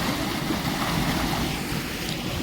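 Clean canal water flows in a steady, broadband rush that stays constant throughout, close by and fairly loud, with no voices over it.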